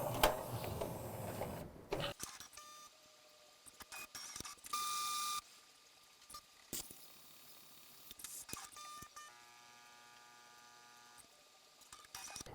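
A Jura GIGA 10 coffee machine makes a cold brew cappuccino, giving faint mechanical whirs, clicks and a ratcheting grind, then a quiet steady pumping hum with small clunks between pauses.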